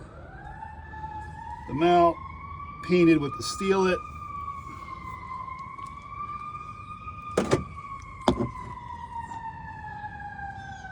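An ambulance siren wails steadily outside throughout, rising and falling gently at moderate distance, while someone talks over it about welding repairs to a second-generation Toyota Tacoma's front body mounts, with a few knocks and clanks in the workshop.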